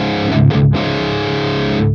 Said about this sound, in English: let's try to work on distortion tone